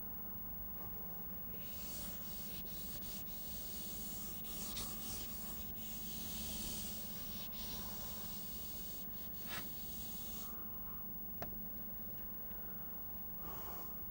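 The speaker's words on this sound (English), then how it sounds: "let me again get some space by rubbing off equations that I do not need anymore" Equations being rubbed off a board during a physics lecture, a long stretch of soft continuous swishing and rubbing strokes, fairly faint and close, with a few light taps.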